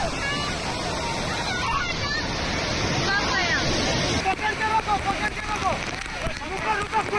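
Strong rushing water pours over the Bhushi dam waterfall in Lonavala, a dense continuous roar that fills the scene, with voices faintly mixed into the wash toward the end.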